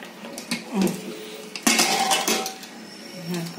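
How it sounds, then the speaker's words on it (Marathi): A pressure cooker full of cooked dal and vegetables is opened up close, with clattering metal clanks and light clinks of the lid and pot, loudest midway and then settling. "कुकर उघडते मी आता"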